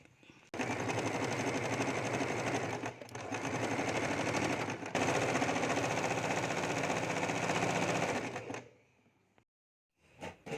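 Sewing machine stitching old jeans fabric: a loud, fast continuous rattle of needle strokes in two long runs with a brief pause between them, stopping near the end before a short final burst.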